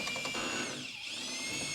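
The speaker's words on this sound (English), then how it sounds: "Walk the drill up to the cross brace, pushing the shaft to force the bit flat against the wall before you start drilling." A power drill with a long flexible shaft runs against a wall, giving a steady high whining motor tone that dips slightly midway and then holds on, close and fairly quiet with no talk.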